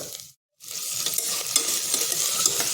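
Tomato frying in a pan for Mughal veg pulao, a steady close sizzle with stirring scrapes, broken by a brief silent gap near the start.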